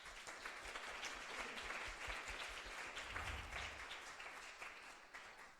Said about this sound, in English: Let us just give a round of applause for the panelists